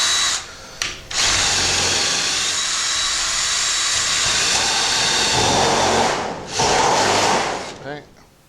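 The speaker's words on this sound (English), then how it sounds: "And drill a pilot hole on both." A power drill whirs loudly and steadily for several seconds, drilling a pilot hole slightly larger than 1/4 inch in a metal shed, stopping briefly and restarting, close by, with a short voice near the end.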